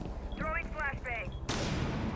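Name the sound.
flashbang grenade thrown, from a video game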